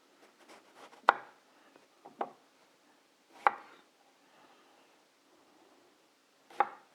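A knife chops vegetables on a board for caponata, a few sharp, separate close cuts spaced seconds apart in a quiet room.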